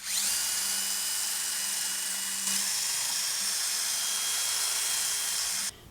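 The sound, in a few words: wire wheel on a drill cleaning rust off hub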